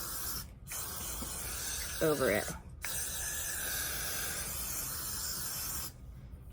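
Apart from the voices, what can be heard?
hair freeze spray being sprayed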